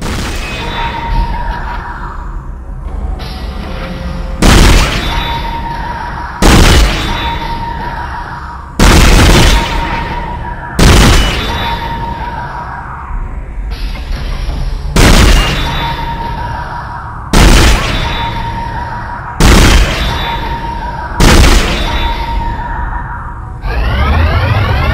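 Loud, sharp gunshots in the Dead Space video game, roughly ten evenly spaced blasts across the stretch, each cutting over a steady droning ambient backdrop with game effects, no talking.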